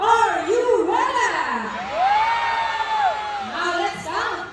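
At a sea lion show, an audience whoops, yells and cheers. Two loud bursts of shouting come close together, then a quieter stretch, then a renewed swell of voices near the end.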